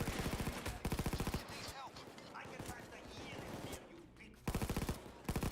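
Gunfire from a sniper rifle in a heist video game, heard as loud bursts of rapid shots at the start and again near the end, with quieter battle noise in between.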